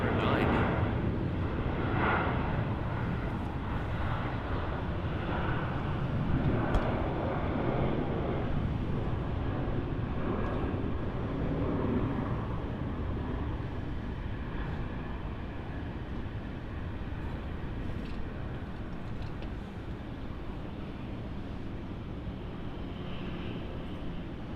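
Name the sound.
Qantas Boeing 737-800 taking off for Melbourne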